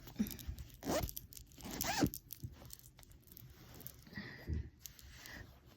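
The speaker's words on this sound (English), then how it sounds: "zip him back up here real quick." Zipper on a robot cat's fabric cover being zipped closed, several short rasping pulls in quick bursts close up, with soft handling rustles between them.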